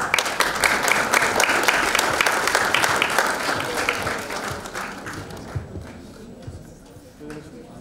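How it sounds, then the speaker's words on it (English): Dense audience applause at a national spelling bee final, loud and steady for about five seconds, then thinning into scattered claps as it fades. "please give her a big round of clap"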